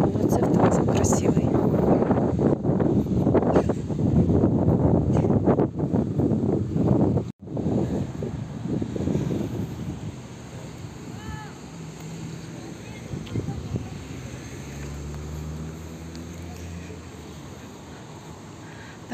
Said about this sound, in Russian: Так, так, ветер, не знаю, будет слышно меня, не будет.